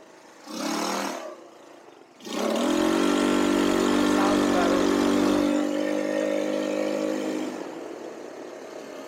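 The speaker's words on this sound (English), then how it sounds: "Let's take it for a test drive." Cheap homemade buggy engine on a test drive: a brief burst of revving, then a sustained loud mid-pitched motor drone that holds steady for several seconds before easing slightly, no talk.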